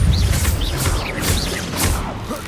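A Bombarda spell blast in Hogwarts Legacy combat against goblins, a loud, dense rumbling burst with whooshing swells and chirping magical tones, sustained and close throughout the short stretch.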